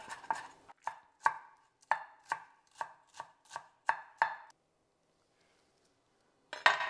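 A kitchen knife chops on a cutting board while dal tadka is being prepared at home: about eleven sharp, evenly spaced chops, close and crisp. A short silence follows, then a final knock.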